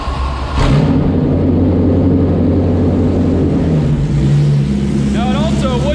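A 1965 Superformance GT40 with push-button start fires up after a short crank, then settles into a loud, steady, rumbling idle with a small rise in pitch; a voice is heard faintly near the end.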